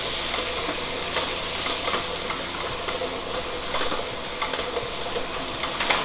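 Half a kilo of ground pork sautéing in a pan for a filling, a continuous loud sizzle with occasional stirring scrapes and no voices.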